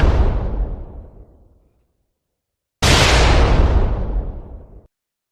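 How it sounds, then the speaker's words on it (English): Two loud bomb-drop explosion effects, each a sudden booming burst that decays over a second or two, separated by a short silence, with no voices. "I got to do a bomb drop."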